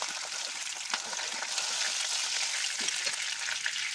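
Pabda fish fry gently in a pan of oil, a soft, even crackle and sputter with small pops, steady throughout and fairly quiet.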